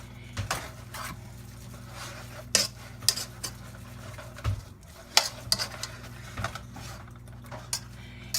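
Sausage broken into small crumbles sizzles in a pan while a utensil scrapes and stirs it, giving irregular clinks and scrapes over a steady low frying hiss.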